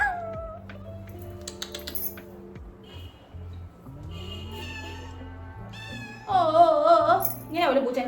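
A cat meowing several times amid quiet household background sounds, with the loudest, most drawn-out meows near the end.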